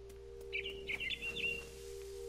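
A small bird chirps in the video game What Remains of Edith Finch, several quick tweets close together, heard alone over a steady low electronic hum.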